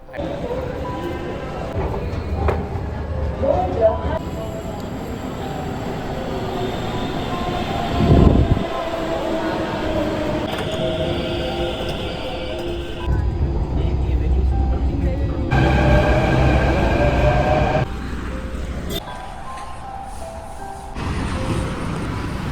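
Steady rumble of a metro train in motion, with brakes squealing and door chimes, carriage noise shifting as it stops and starts; people talk in the background.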